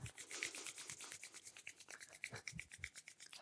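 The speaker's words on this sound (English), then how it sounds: "Rub the hands." Palms rub together in steady back-and-forth strokes during a seated cross-legged yoga practice, a soft continuous brushing friction close by with no talking.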